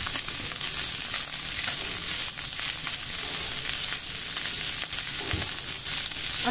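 Chicken fries in a pan as a lasagna filling, with salt added, and is stirred throughout; a dense, steady sizzle carries scraping spoon strokes and occasional louder clatters, and no one speaks.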